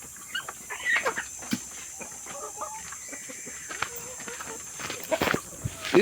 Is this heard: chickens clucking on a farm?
yes